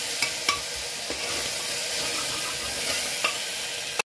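Ginger, garlic and finely chopped tomato fry in a pan with a constant bright sizzle, broken by a few sharp clicks of a spoon stirring against the metal. No one speaks.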